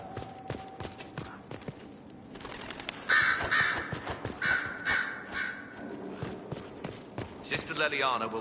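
Crows caw several times in the Dragon Age Inquisition video game, sharp calls repeated over game ambience, with hoof-like clopping and a voice speaking at points.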